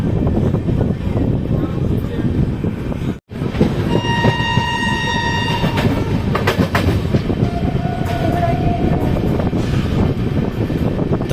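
The Haridwar Amritsar Jan Shatabdi express train running, a loud, steady rumble heard from inside the carriage, with horn blasts partway through and faint voices underneath.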